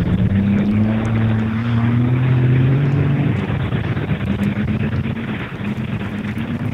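A helicopter in the video game Battlefield 3 drones loudly with a low, rising engine tone and rotor rumble. It holds steady for several seconds with no talk over it.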